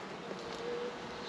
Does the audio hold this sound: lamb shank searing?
no